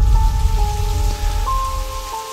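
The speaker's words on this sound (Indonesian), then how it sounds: "Bandung diguyur hujan." Steady rain falls over a residential complex in East Bandung on a late afternoon, a continuous broadband wash with faint tonal hums in the background and no talk.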